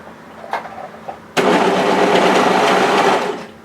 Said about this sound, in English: we'll just go ahead and overlock the edges together here